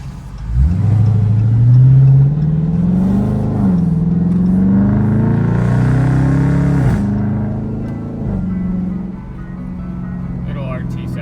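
A Dodge Charger R/T revs and pulls away while driving, its engine rising in pitch through repeated gear shifts, loud and close for about nine seconds before easing off.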